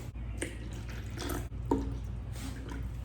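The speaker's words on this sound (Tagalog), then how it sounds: "Kukuha lang ako ng tubig. Lalagyan ko siya ng 400 lang." Water trickles and drips into the tank of a small, inexpensive air humidifier, light intermittent splashes and droplets close by in a quiet room.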